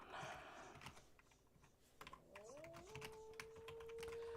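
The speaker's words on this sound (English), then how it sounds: "I don't know if you guys can hear the keyboard typing away or not." Rapid, light clicking of computer keyboard typing runs throughout, quiet and close, with a brief soft tonal whine partway through.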